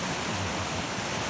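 Heavy water of the River Findhorn in Scotland rushes past in a steady, dense broadband roar, close and continuous, with no voices over it.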